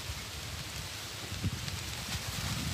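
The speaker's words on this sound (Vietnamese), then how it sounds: "Quá mưa." Heavy rain falls outdoors during snake trapping with nets along a riverside, a constant loud wash of drops and rustling with low thumps scattered throughout.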